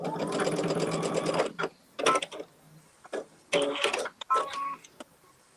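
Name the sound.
sewing machine re-stitching quilt block seam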